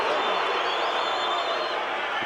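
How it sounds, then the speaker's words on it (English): Boxing arena crowd in Las Vegas, a steady loud roar of cheering spectators filling the space throughout. "The crowd is absolutely electric tonight here in Las Vegas."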